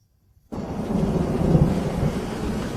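A typhoon storm over an old mud-brick village house breaks in suddenly after a near-silent moment. Heavy thunder rumbles loud and close over a steady wash of heavy rain, with no voices.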